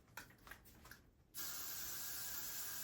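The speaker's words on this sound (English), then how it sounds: "So it's best to just spray it." A can of hair spray hisses onto a wig during a mohawk wig install. One continuous close spray starts after a second of soft handling noises and runs loud and steady to the end.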